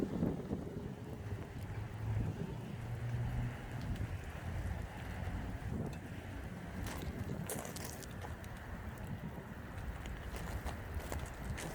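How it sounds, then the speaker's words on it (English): Steady rain falls outdoors beside a new 2024 Nissan Titan Pro 4X, a constant hiss mixed with gusty wind buffeting the microphone, with a few louder spatters near the end. "It's raining out here."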